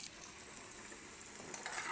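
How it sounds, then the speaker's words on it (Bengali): Garlic and chili frying in a pan with fish, potato and eggplant cooking nearby, giving a steady, even sizzle of moderate loudness that swells slightly toward the end, with no talking. "এখন রসুন আর মরিচ দিয়ে দিলাম"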